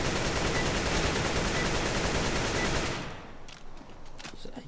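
Rapid sustained automatic fire from an AK rifle in the video game Counter-Strike, a dense loud burst lasting about three seconds before cutting off into quieter scattered game sounds.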